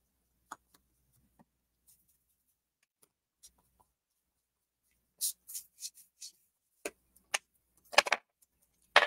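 Ink is worked onto a pink paper Christmas tree tag in faint, scattered scrubbing and dabbing strokes, quiet pauses giving way to a livelier cluster of brushy swipes near the end, close up with no voices.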